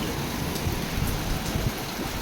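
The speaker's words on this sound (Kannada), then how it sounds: "ಅಷ್ಟು ಜೋರಾಗಿ ಮಳೆ ಸುರಿಯುತ್ತಾ ಇದೆ" Steady, dense rain pours down without a break, a continuous loud hiss of water striking surfaces close by.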